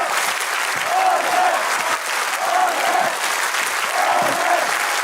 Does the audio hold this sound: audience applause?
yes